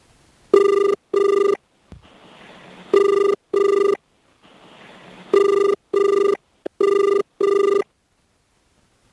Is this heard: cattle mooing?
no